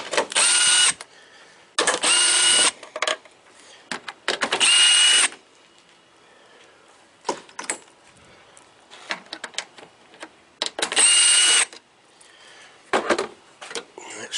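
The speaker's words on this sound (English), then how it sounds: "I'm just going to use a driver" A power driver whirs in several separate bursts, close and loud, removing headlight bolts from a 2011 second-generation Toyota Tacoma, with ratcheting clicks and quiet handling noises between runs.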